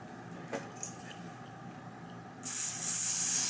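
A spray bottle mists over a curved lace wig during installation, a soft hiss that starts abruptly after a quiet stretch of faint handling noises and holds steady and fairly loud to the end.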